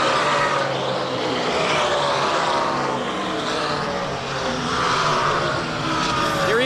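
NASCAR stock cars roaring around the track during a 2005 race at a caution period, a dense continuous engine drone with cars passing and sweeping in pitch, loud throughout.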